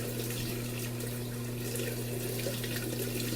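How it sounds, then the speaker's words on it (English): Cold water pours steadily from a bathroom tap for a face rinse. It makes a constant, even hiss of running water with a low hum underneath, fairly faint and close, with no talking. "Cold water rinse."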